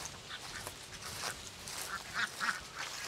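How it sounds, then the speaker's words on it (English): Ducks on a farm quack repeatedly in a busy, overlapping chorus at moderate distance, with some geese-like honks mixed in. "There's the ducks."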